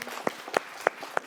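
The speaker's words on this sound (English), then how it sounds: "so I would like to applaud her again" Four sharp, evenly spaced claps ring out at a conference presentation, each a short isolated smack rather than a full crowd's applause.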